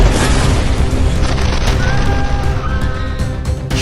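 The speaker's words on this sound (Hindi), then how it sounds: "जोरदार धमाके ने सब कुछ हिलाकर रख दिया" A huge explosion blast near a tower in a war zone, a loud roaring boom that fills the whole span and rumbles on with no voices over it.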